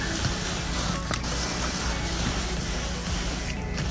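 Soft wash solution sprayed from a pressure-washing setup across the exterior surfaces of a house, producing a loud, continuous hiss of spray that barely varies, with no voices over it.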